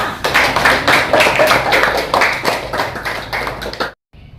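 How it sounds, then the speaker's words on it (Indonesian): A primary school class in Medan, Indonesia breaks into brisk, dense hand clapping that rolls on steadily for about four seconds, then cuts off abruptly into near silence. "Iya benar, tepuk tangannya"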